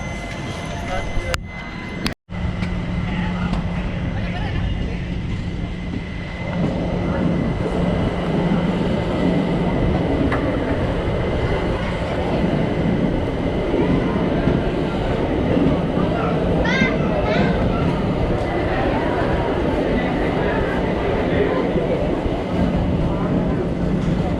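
The Karnataka Express rumbles steadily near Kopargaon, a loud continuous roar of wheels and carriages with a sharp knock early on and no letup throughout.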